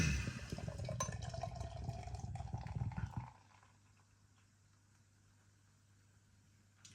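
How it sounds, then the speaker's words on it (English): Hazy double IPA poured hard into a glass in a Czech-style pour, a gushing, foamy splash for about three seconds that stops abruptly, leaving a quiet hum. "Bit of a Czech pour going on there"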